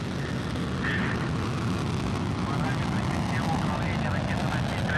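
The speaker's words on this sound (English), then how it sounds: "Liftoff of the 75th Progress resupply ship on a fast-track 2-orbit flight to the" A Soyuz 2.1A rocket lifts off from the Baikonur Cosmodrome carrying a Progress resupply ship, its engines producing a continuous, dense, broadband roar with no letup throughout, while a voice talks over it.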